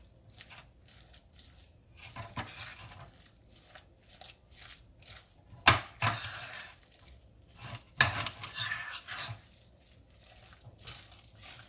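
Chicken salad dressing being stirred in a bowl: soft, intermittent scraping and swishing, broken by a couple of sharper utensil knocks against the bowl partway through, close and fairly quiet.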